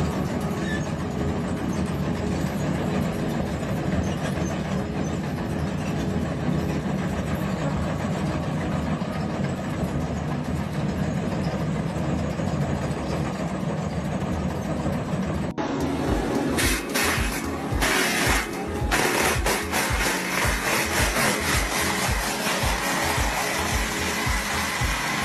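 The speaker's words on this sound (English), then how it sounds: "You could call this the world's largest chainsaw, but it's not cutting down trees," A giant chainsaw-like trenching machine cuts into the earth with a loud, steady engine roar and grinding, which turns into a rapid rhythmic chugging and clatter about two-thirds of the way through. No voices are heard.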